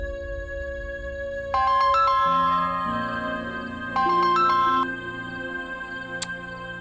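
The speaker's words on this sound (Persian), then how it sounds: "گوشی رو بردار ماما." A mobile phone ringtone plays two short bursts of a bright electronic melody a few seconds apart. Steady drone-like background music runs underneath, and no one speaks.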